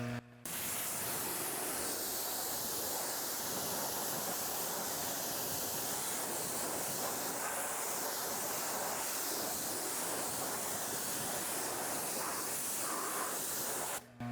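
A pressure spray of water rinses tire and wheel cleaner off a car wheel, producing a loud, continuous close hiss that runs unbroken for about fourteen seconds and cuts off sharply at both ends.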